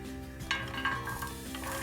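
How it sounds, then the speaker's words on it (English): Chopped carrots and bell pepper sizzle in a frying pan inside an RV kitchen, a soft steady crackle with a couple of light utensil scrapes and stirring clinks. "now I am keeping the veggies in the frying pan so they can fry"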